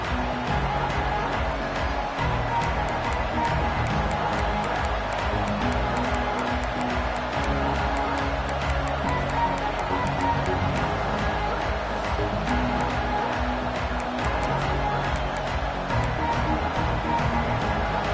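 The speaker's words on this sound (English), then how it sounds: "This crowd ready to make its presence known." Stadium crowd noise in a college football video game, Texas against LSU: a dense, steady roar of fans filling the whole stretch, loud and unbroken from start to finish.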